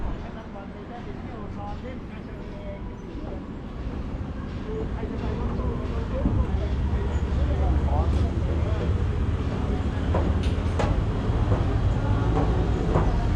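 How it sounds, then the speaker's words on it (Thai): A passing train rumbles loudly and steadily, a dense low roar with rattling that builds slightly over time, and voices can be heard alongside it. "นี่เห็นแล้วรถไฟนะรถไฟครับ"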